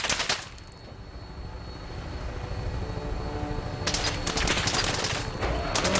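Rapid gunfire bursts from people shooting in Fallout 4, loud and close, with a dense volley at the start and another cluster of shots near the end over a steady engine-like rumble.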